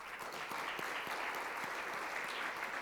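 Steady applause from a seminar audience, a dense even patter of many hands clapping that continues without pause at moderate distance.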